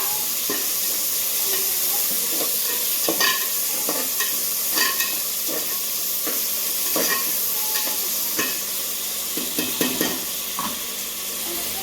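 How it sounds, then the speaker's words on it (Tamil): Onions browning in a pan as the base for chicken biryani, a steady close sizzle and hiss broken by repeated clicks and scrapes of a spoon stirring against the pan. "வெங்காயம் நல்லா ப்ரௌனிஷ் ஆகிற அளவுக்கு வதங்கிருச்சு."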